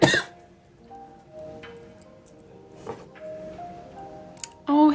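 Two sharp, close coughs open and close a quiet stretch, with faint ticking and light rustling in between and no talking.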